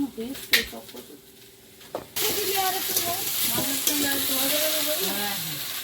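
Food frying in a pan beside a clay stove, a loud steady sizzle that starts abruptly and holds, with stirring and people talking over it; quieter clatter and voices come before the sizzle.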